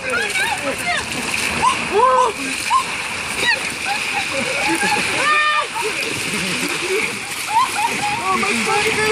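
Ice water splashing and sloshing at an outdoor ALS ice bucket challenge fundraiser, with repeated near splashes and pouring mixed with excited talk and shouting from several people.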